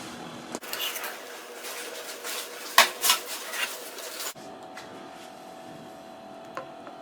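A sweet spaghetti dessert, an Eid special, is scooped out and dished into a serving dish, giving clattering spoon-on-dish scrapes and knocks. The clatter is loud in the middle, with a sharp clink, then settles to quieter handling.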